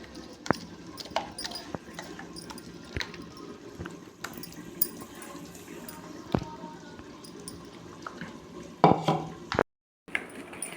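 Ground spice paste with a little turmeric being mixed by hand in a bowl for crab fry, giving soft, steady squelching and scraping with occasional sharp clinks against the bowl, close and fairly quiet.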